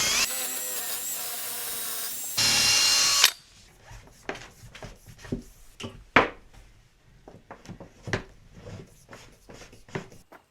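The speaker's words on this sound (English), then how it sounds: "I'll try this drill bit for now." A cordless power drill whines loudly for several seconds, drilling through a cabin wall while wiring a 12 volt air conditioner, then stops and gives way to a run of close clicks and handling knocks.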